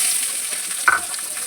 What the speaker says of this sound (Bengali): পেঁয়াজ কুচিটা একটু ভালো করে ভেজে নেবো